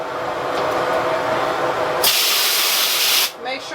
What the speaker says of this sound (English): Make sure my sprayer is spraying.